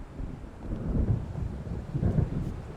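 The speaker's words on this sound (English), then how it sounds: "It seems there's a storm coming." Thunder from an approaching storm in the Alan Wake video game rumbles low and heavy in two rolling swells, with faint rain and wind beneath and no voices.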